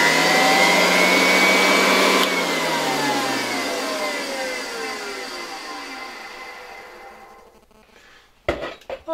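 A 1966 Alfa K2 vacuum cleaner with an SK-5b motor runs with a loud, steady whine, then is switched off and its pitch slowly winds down to near silence. A few knocks and clunks follow at the end.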